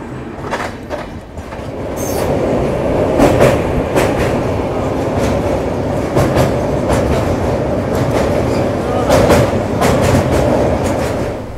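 A passenger train rolls along after leaving Surat railway station. It gives a loud, continuous rumble with rhythmic clickety-clack of the wheels on the rails, and occasional sharper rattles, heard close from inside, with no talking.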